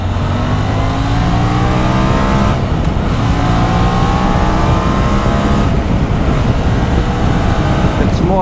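A 2023 QJMotor SRT 550 adventure-tourer motorcycle engine and exhaust hum steadily and loudly throughout, rising and falling in pitch as it revs and accelerates on a test ride, with a brief drop in intensity midway.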